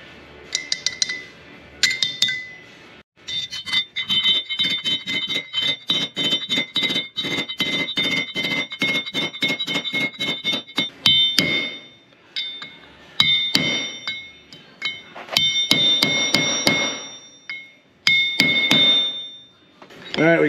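Steel inner bearing race being pounded into its seat on a Rhino PM42 brush hog driveshaft, heard as a long run of sharp metallic hammer strikes with ringing clinks, coming in rapid bursts separated by brief pauses.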